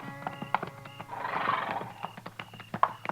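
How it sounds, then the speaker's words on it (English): Horses neighing and hooves clip-clopping in a Western radio drama, a long whinny rising in the middle amid scattered nearby hoof clops, with no speech. "This man's got horses."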